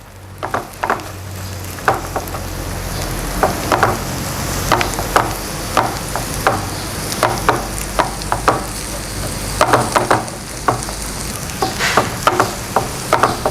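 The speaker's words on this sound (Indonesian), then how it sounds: "Kita tumis bawang bombaynya sampai layu ya bun." Onions being sautéed in a pan: a steady sizzle runs under repeated sharp scraping and stirring strokes from a spatula, close and fairly loud, with no talking.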